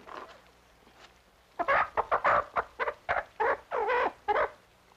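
A plump six-pound hen clucks in a series of loud, close, choppy calls after a quiet opening moment, each cluck short and abrupt with brief pauses between bursts.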